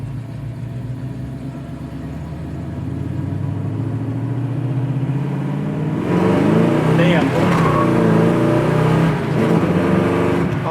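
A 1969 Chevy Camaro's engine climbs in pitch under acceleration, then shifts at about 3,700 RPM and pulls hard again, loud and close from inside the car, with a man's brief exclamation over it.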